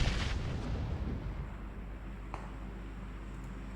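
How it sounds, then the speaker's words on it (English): A grenade blast booms loudly at the start in PUBG Mobile, its deep rumble decaying over a few seconds, followed by a faint distant pop. "those nades come in on Numpty"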